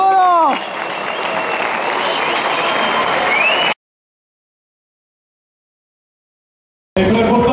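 A crowd applauds after a match between Jan Vlasák and Tomáš Šenkýř, a loud dense clapping that runs for several seconds after a brief voice, then cuts to silence before returning abruptly.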